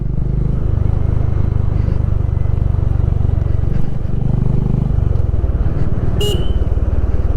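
A Honda CB350 motorcycle rides through winding bends on patchy roads, its engine droning steadily and loudly close by, with a brief horn toot near the end.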